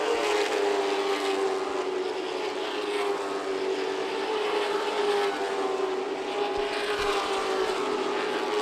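Race cars at Myrtle Beach Speedway roar around the track in a loud, steady, continuous engine drone with shifting pitch as they pass, mid-race around halfway.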